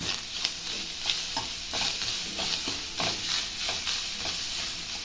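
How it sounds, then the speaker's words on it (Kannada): Freshly grated coconut stirred and sizzling in a hot pan, a steady close frying hiss broken by repeated scraping strokes of a spoon, with no talking. "ಐದು ನಿಮಿಷ ಫ್ರೈ ಆಗಿದೆ ಕಾಯಿ ತುರಿ ಹಾಕ್ತಾಯಿದ್ದೀನಿ ಹಸಿ ತೆಂಗಿನಕಾಯಿ ತುರಿ"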